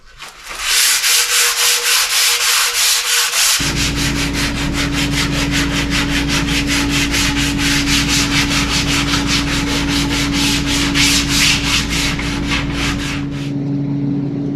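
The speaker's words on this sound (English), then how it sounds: "I'm just gonna touch everything up with a hand sand here" Hand sanding on a solid cherry wood desk makes rapid, rhythmic back-and-forth scratching strokes, loud and close, running continuously for a long stretch with no voices.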